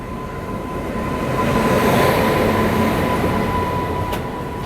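A passenger train pulls out of Thiruvananthapuram Central railway station, its loud, steady rolling roar swelling and easing, with a thin high whine running through the rumble.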